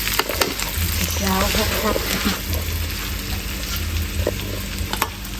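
Food stir-fries in a pan over a fire, with continuous loud sizzling and scraping stirs close by, while someone speaks briefly over the cooking.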